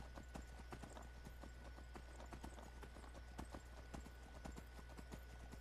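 Horse hooves clip-clopping steadily along in Skyrim, a regular, evenly paced series of sharp clops over a faint low ambient hum, fairly close and clear with no talking.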